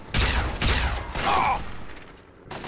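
A few loud shots and mechanical weapon clatter from the Point Lookout mansion defense in the video game Fallout 3, close and sharp, with a short ringing tail.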